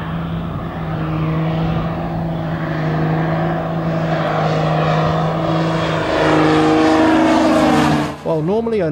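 A CT-4 propeller training aircraft flies nearby with a steady engine drone that keeps a constant pitch, then rises in level and shifts pitch near the end as it passes close.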